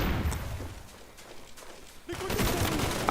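Gunfire in Call of Duty Black Ops multiplayer, a rattling burst of shots fading into quieter scattered cracks, then a loud dense burst returning near the end.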